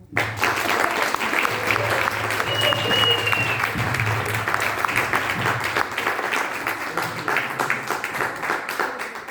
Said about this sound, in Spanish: Les dejamos con Fernando, un aplauso.